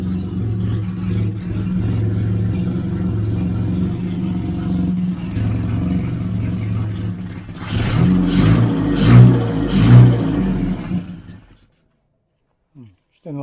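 The 998cc A-series engine of a 1989 Austin Mini idles with a steady rumble, then revs in several rough pulses that rise and fall, stumbling before it cuts out into silence. Voices are heard over the engine.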